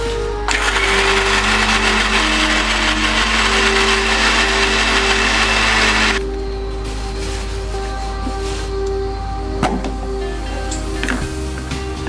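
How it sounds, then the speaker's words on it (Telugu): A kitchen mixer grinder whirs loudly as it grinds ingredients for homemade protein powder, running hard for about six seconds before cutting out. A low motor hum lingers afterwards with faint handling clicks. "ఇవన్నిటిని మిక్సీలో పట్టాలి."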